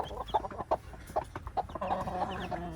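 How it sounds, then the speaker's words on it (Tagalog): Rhode Island Red chicks peeping in short, high repeated calls close by, a steady scatter of chirps with a soft clucking undertone and no voices. "Iniwan na yung kanyang mga sisiw."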